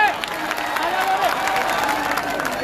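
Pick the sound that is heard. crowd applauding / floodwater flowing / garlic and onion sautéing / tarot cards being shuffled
crowd applauding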